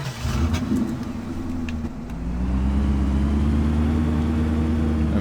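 A pickup truck in Farming Simulator 15 pulls away, its mid-pitched engine droning steadily and rising in revs as it accelerates, loud and close with no talk over it.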